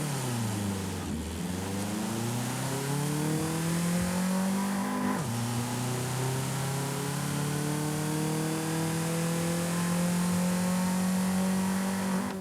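A Nissan BE-1 engine in Forza Horizon 5 revs up, drops sharply, then climbs again in a long sustained rise, loud and steady with no talking.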